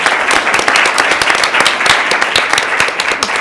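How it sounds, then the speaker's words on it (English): An audience at a School Counselor of the Year briefing applauds the sponsors, a dense, steady patter of many hands clapping with no letup across the whole stretch. "Let's give them another hand for sponsoring this briefing"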